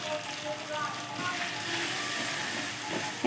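Turmeric, coriander and chili powder sizzle in a frying pan with a steady close hiss that runs the whole time, with no voices over it.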